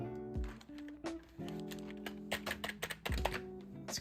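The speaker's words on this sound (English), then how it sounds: "This is a Razer keyboard." Keys clack irregularly on a computer keyboard from a CyberPower PC gaming desktop, close and fairly loud over a steady tonal hum and background noise.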